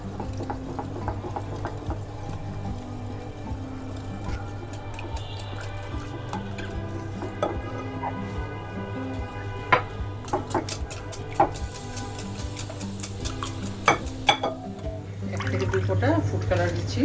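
Eggs and sugar are mixed in a bowl, giving steady wet stirring and clinking sounds with sharp utensil taps against the bowl, close by and under ongoing low background hum.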